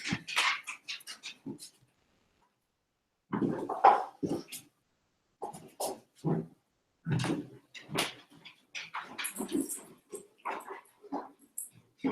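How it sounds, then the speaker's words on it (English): A dog barks and whimpers indoors in short scattered bursts, near and moderately loud, with a pause between bursts and no talk over it. "I had to get rid of the dog for a moment."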